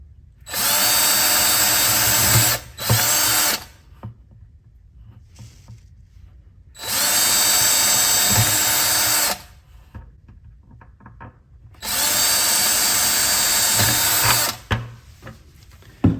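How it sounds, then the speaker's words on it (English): A power drill whirs into a plastic bucket in three loud bursts of a few seconds each, with quiet pauses and faint handling noises between them. "Plastic's kind of hard to drill into."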